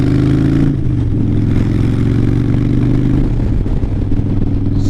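A motorcycle heading toward a freeway, engine droning loud and close with a steady mid-pitched hum, the tone dropping slightly as the rider shifts, alone without talk.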